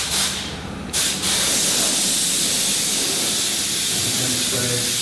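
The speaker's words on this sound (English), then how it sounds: "Constantly moving the spray gun as well." A spray gun applies leather colour onto a car seat from a few inches away, producing a loud, steady airy hiss that briefly cuts out near the start before resuming continuously.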